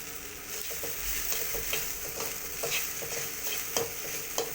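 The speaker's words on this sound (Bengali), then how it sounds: "কীভাবে ঢেঁড়স ভাজি করা লাগে দেখেন এই যে তেল দেওয়ার পরে" Okra frying in oil, a steady hiss of sizzling with regular light clicks and scrapes from stirring, close up and without voices.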